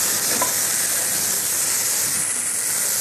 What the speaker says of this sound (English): It's all frying nicely.